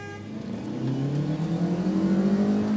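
A Fiat Mobi and a VW Gol accelerate hard side by side in a drag race, engines revving up with a rising whine that grows louder and closer over a few seconds, with no talking.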